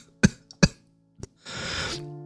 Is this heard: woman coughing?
yes